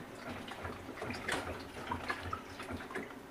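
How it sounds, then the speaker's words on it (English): Water sloshes and gurgles inside the tub of an LG Waveforce WT5070CW top-load washing machine during a vinegar tub-cleaning cycle, a steady, soft wash of churning liquid with faint splashes and drips throughout. "there's water sloshing around in here"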